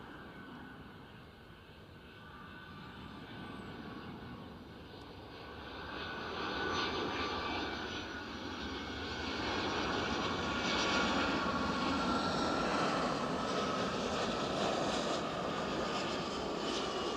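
A plane arriving at Edinburgh airport, its engine roar swelling from a distant hum to a broad, steady drone that holds near its loudest, with no voices.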